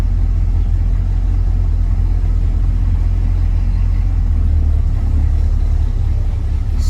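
A 1967 Pontiac Firebird driving through traffic, with a deep, continuous engine rumble and road noise heard from inside the car, loud and steady with a slight rise toward the end.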